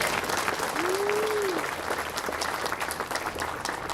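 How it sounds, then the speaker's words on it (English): Crowd applause at an outdoor Pride flag raising ceremony in Westchester County, a steady, fairly loud wash of clapping throughout, with a brief voice over it early on. "we owe former county executive Andrew O'Rourke a round of applause for his leadership"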